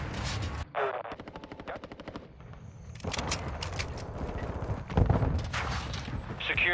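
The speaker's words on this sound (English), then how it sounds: "Taking effective fire!" Gunfire in Call of Duty: Modern Warfare II, with rapid automatic bursts and scattered single shots at close range amid battle noise, and brief voice callouts between.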